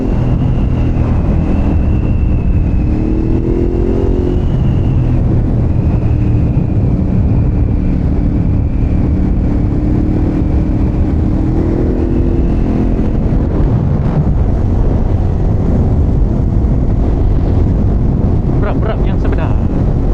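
Steady engine drone of a Ducati Hypermotard 950 RVE motorcycle with a Termignoni exhaust riding along at night, with rushing wind noise throughout and a rising, falling pitch as the bike changes speed.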